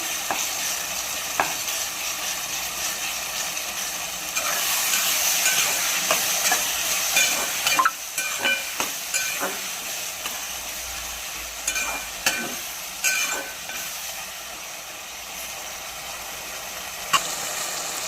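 Ginger paste frying in a pan for a five-vegetable curry gives a steady sizzle throughout, with scattered scraping and stirring clacks in the middle and toward the end; no one speaks.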